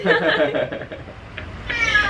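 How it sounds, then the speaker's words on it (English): A hungry cat meows loudly and repeatedly nearby, its drawn-out cries rising and falling over about two seconds, with a brief murmur of background noise between calls. "she's gonna come in and start meowing about"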